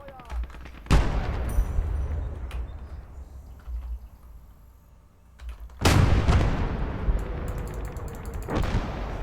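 Mortar and gunfire in the video game Motherland: heavy booming blasts with crackling gunfire, one big impact near the start and another around the middle, loud and close, followed by rumbling decay and a background of scattered shots.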